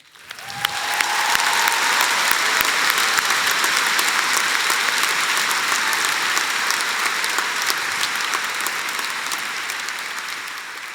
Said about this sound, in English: can I get a round of applause for the incredible team behind today?